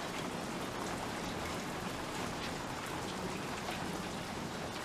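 Steady rain falls in the desert, a dense, even hiss of drops on the ground throughout, fairly faint and with no speech.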